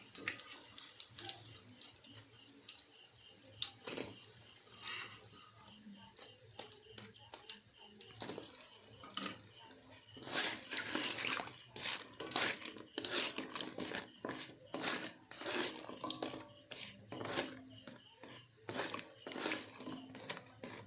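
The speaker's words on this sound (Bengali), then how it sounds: "মিষ্টিগুলো লাল লাল করে ভেজে নিয়েছি এবার আমি চিনি রসের মধ্যে দিয়ে দিচ্ছি" Fried semolina kalojam sweets, browned in oil, are dropped into sugar syrup, giving irregular wet splashes and liquid sloshing with sharper bursts through the middle and later parts, close and moderately quiet.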